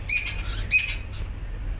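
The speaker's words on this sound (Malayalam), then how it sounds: "പിന്നെ നല്ല കിളികളുടെ സൗണ്ട് കേൾക്കുന്നുണ്ടോ?" Birds chirp outside a house, heard from the front sit-out: two short bursts of bright, high twittering close together near the start, then fading over a steady low hum with no talking.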